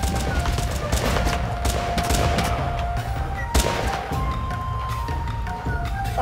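Dense gunfire rattles through a World War II battle in a video game, with rapid bursts and scattered loud shots piling up continuously, one sharp crack standing out midway.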